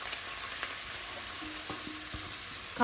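Gongura leaves frying in a pan for Andhra-style gongura pulihora, giving a steady, close sizzle with a few soft stirring knocks and no talking.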